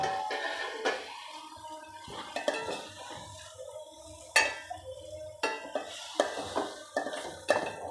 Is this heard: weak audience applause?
no